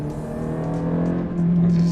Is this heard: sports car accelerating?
yes